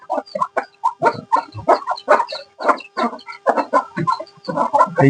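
Chickens cluck and chatter continuously nearby, a rooster among the hens, with busy overlapping calls throughout.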